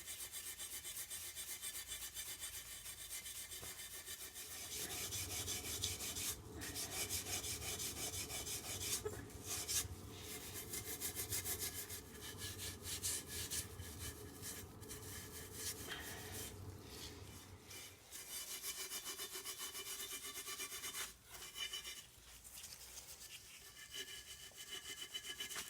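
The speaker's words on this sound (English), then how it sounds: "it's actually loosening up very easy. Very easy. There we go, scraping that off." Old coating being scraped off a car intake plenum, repeated rough rasping strokes, close and steady, with brief pauses between passes.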